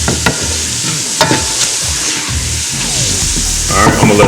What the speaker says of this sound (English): I'm not doing anything but sauteing vegetables